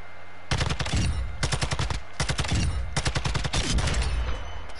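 Automatic gunfire from a gun in a video game, fired in four long rapid bursts separated by short pauses, loud and close, with no talking over it.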